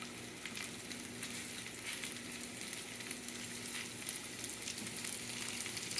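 Salt and pepper shrimp frying in oil in a single batch, a steady, dense sizzle and crackle running throughout without pause, close and fairly loud, with no voices.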